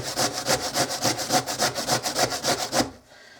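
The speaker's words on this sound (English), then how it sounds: "So anyway, all I do is I just grate them up. And I grate them right on my counter." Red potatoes grated by hand on a countertop for hash browns, brisk rhythmic scraping strokes, loud and close, about a dozen even passes that stop abruptly near the end; no voices.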